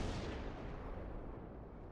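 The main guns of the Izumo battleship fire in World of Warships as one deep, rumbling salvo. A broad boom decays slowly and sounds fairly quiet and distant.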